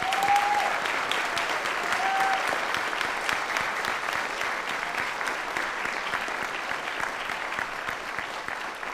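An audience at an honors convocation applauds award-winning students with dense, sustained clapping that stays steady and slowly tapers over several seconds.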